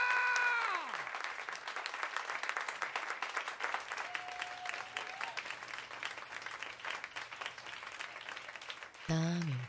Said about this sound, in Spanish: ¡Aplaudan, coño!